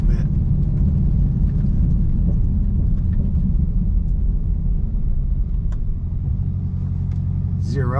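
Deep low rumble of a Dodge Challenger Hellcat Redeye Super Stock idling loud and steady before a launch, with a brief rising whine near the end.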